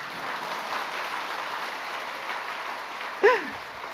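A church congregation applauds a youth mission team in a steady, moderate wash of clapping that stays even throughout, with a brief louder sound near the end.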